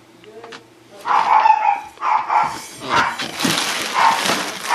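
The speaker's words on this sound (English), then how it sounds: "Dogs are excited too." Several excited dogs bark and yip in a workshop, loud close bursts that come in uneven clusters and build toward the end, with some whimpering between.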